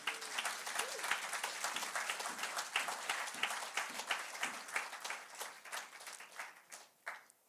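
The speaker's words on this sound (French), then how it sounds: "acclamons très fort le Seigneur" Congregation at an online church service applauding the Lord, a dense, steady burst of clapping that carries on for several seconds before thinning out and fading near the end.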